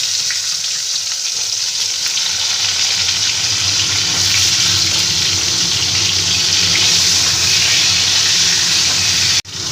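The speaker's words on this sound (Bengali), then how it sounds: "এবার আমি পটলগুলোকে হালকা করে ভেজে নেবো তার জন্য কড়াইতে তেল দিয়ে দিয়েছি" Pointed gourd (potol) frying lightly in oil in a kadai: a loud, dense, unbroken hiss of spitting oil that holds steady for several seconds before ending abruptly.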